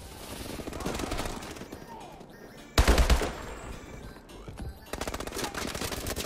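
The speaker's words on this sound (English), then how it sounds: "He's shooting right at me for like 3 hours." Rapid automatic gunfire in Call of Duty: Advanced Warfare multiplayer, sustained bursts with a loud close volley near the middle, fading and then resuming in a steady rattle, with a voice faintly underneath.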